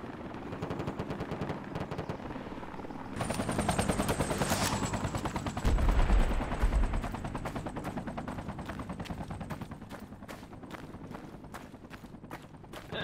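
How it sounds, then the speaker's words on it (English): Rotor chop of a helicopter and bursts of gunfire in the military shooter game Project Reality, steady and fairly loud throughout, with a sharper burst of fire midway and continuous mechanical drone underneath. "enemy choppers around at D11"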